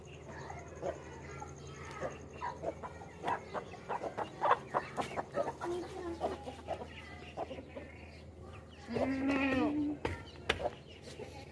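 Chickens cluck and call in a run of short, uneven bursts, with a louder, drawn-out call near the end.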